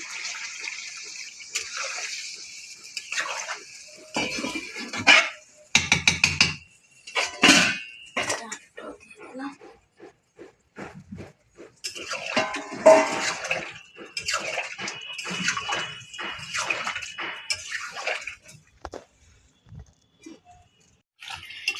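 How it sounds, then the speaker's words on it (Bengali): Water poured into a pot of chicken curry, heard as splashing, gushing bursts that come and go close by, with some clanks of a pot in between. "জল দিয়ে দেবো, জল দিয়ে দিলাম"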